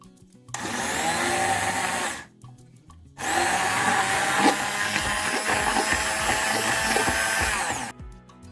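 An immersion blender whisks eggs in a bowl, whirring loudly in two long runs separated by a short pause, a steady motorized buzz close by.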